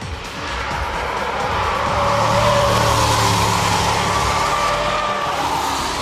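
A BMW 6 Series prototype coupe drives past, its engine and tire noise swelling to a loud peak midway and then easing off slowly, with no voices.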